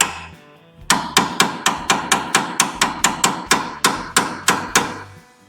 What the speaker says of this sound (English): just get your little hammer